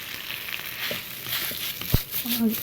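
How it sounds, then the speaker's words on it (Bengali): Freshly ground black pepper is stirred into a frying momo mixture in a pan, giving a soft steady sizzle with a few scraping stirs and one sharp knock near the end, close and unaccompanied by speech. "সব কিছু ভালোভাবে নেড়ে চেড়ে মিশিয়ে নিচ্ছি।"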